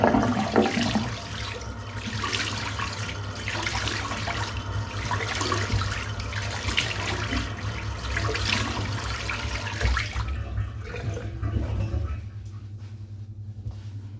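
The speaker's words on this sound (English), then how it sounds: "I'm just going to rinse all this off now" Water rinsing off a freshly shaved head, a steady close splashing and running-water rush with a low hum underneath that cuts off near the end, leaving a quieter tail, no talking.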